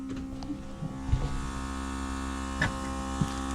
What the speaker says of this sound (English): I hear something back there now. Might just be the pump.